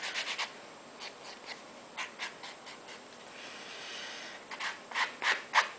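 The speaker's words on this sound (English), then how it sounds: "I'll do the back too and rub the edges as well" Faint, soft brushing strokes come from rubbing the edges of a small paper artist trading card, repeating irregularly and growing a little stronger toward the end with no voices.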